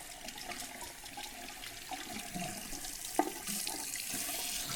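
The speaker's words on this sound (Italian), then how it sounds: "dobbiamo stare qui quei 10 secondi a buttare acqua e a sperare che diventi calda" Tap water runs steadily into a bathroom sink in a continuous soft hiss and splash, with a small knock partway through and no one speaking.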